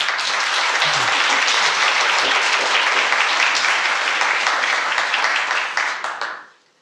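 Sustained audience applause welcoming a speaker at an academic lecture on Iranian office holders in the Macedonian Empire, dense steady clapping from a full room that holds for about six seconds, then fades out.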